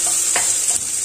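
Metal spoon stirring in a pot while lamb is being prepared for a prune tajine, with a steady frying sizzle throughout and a couple of brief scraping strokes standing out over it.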